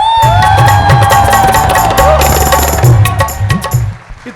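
Church congregation at a Hindi-language gathering erupts in loud cheering and crowd noise that stays dense and near for the whole span, with voices shouting over it.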